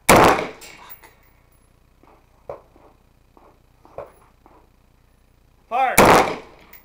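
Gunshots at an outdoor 3-gun shooting match: a loud blast opens, several fainter scattered shots follow, then another heavy close burst near the end, with a voice calling out between them.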